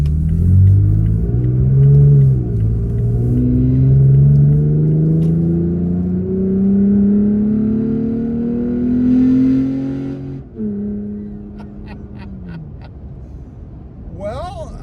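A Toyota Tacoma pickup engine with a newly installed intake revs up steadily as it accelerates, pitch climbing through the gears with a low rumble and audible air intake sucking, heard from inside the cab.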